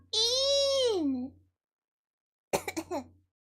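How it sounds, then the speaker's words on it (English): A single drawn-out vocal sound, tonal and sliding downward, comes first, then after a pause a short burst of rough, choppy throat noises. Both are clear and close, with a faint steady hum underneath. "Yeah, the cough."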